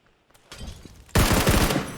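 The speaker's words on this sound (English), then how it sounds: "that's the headshot from the Scarl" Rifle fire from a SCAR-L in a PUBG esports match, with a few faint distant pops and then a sudden loud burst of close, rapid shots that continues to the end.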